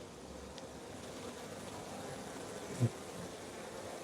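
A honeybee swarm in a tall tree buzzes steadily through the whole stretch, a soft continuous drone, with one brief low thump near the end.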